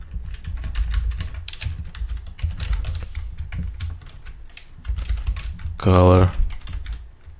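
Rapid keystrokes on a computer keyboard while code is entered, a steady close clatter running throughout with a brief spoken word near the end.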